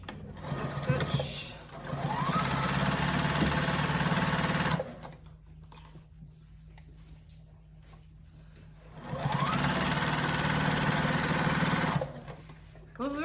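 Sewing machine stitching a placemat, with two long, loud, steady runs of a whirring motor and rapid needle clatter, separated by a quiet pause with faint handling noise.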